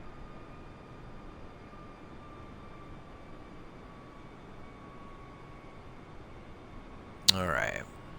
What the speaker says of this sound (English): You don't get to control my airplane.